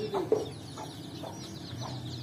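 A hen clucks to call her chicks, giving several short, fairly close clucks spaced about half a second apart over low background noise.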